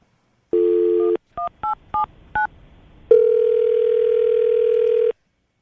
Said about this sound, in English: I'm going to try to get him back on the phone